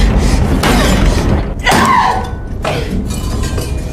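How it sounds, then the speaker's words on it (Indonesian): Heavy metallic thumps and crashing impacts as a canister is smashed against a back-door padlock in a film scene, several loud blows with ringing, mechanical clatter between them. "Ia kemudian berusaha menghancurkan gembok pintu belakang menggunakan tabung"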